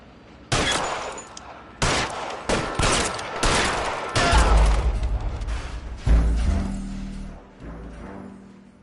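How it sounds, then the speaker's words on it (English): Heavy gunfire in the crime video game L.A. Noire: loud bursts of overlapping shots and booming blasts, several volleys with short gaps, alone with no talk. "All units, shots fired, officer needs help."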